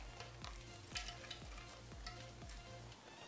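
Chicken biriyani sizzles steadily in a pan while a utensil scrapes and stirs in regular strokes about twice a second, close up, with no voices.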